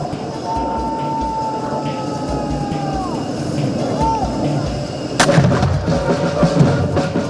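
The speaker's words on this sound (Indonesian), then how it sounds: "21 kali dentuman kehormatan menemani perjalanan Presiden Prabowo dan Raja Abdullah II" A single heavy cannon boom from a 21-gun artillery salute honoring the King of Jordan's visit to Indonesia cracks out over a steady low rumble, its echo trailing off into the background.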